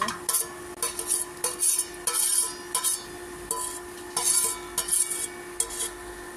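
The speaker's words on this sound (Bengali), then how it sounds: "আমার পেঁয়াজ আর মরিচকে একটু নেড়ে ছেড়ে দেওয়া হয়ে গেল" Onions and chopped green chillies are stirred in a pan, a spatula scraping and rubbing in repeated close bursts over a soft sizzle.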